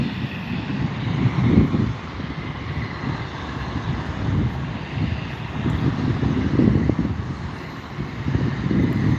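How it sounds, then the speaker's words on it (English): An Allegiant Airbus A319 airliner at an airport, a steady, moderately loud jet engine rumble with some wind buffeting, heard from a distance with no talking. "Back there we have an Allegiant Airbus A319."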